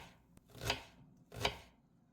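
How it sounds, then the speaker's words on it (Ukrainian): Two crisp knife strokes through a large onion on a cutting board, each a short dense chop, close and clear with a quiet pause between them and no voices. "Одну велику ріпчасту цибулю дрібненько нарізаємо"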